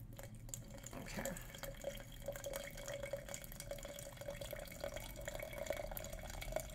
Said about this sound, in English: And you can pour any type of water into this.